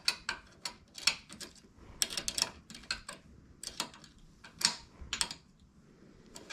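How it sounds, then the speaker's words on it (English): An 11mm wrench tightening a bolt while mounting a Rotopax gas tank, a rapid uneven run of small metallic ratcheting ticks and clicks, close and fairly quiet, with no one talking. "I'm going to be using an 11mm wrench, and that should be finishing up the job."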